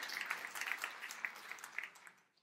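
Church audience applauding for the pastor, a faint, thin patter of scattered hand claps that tapers off.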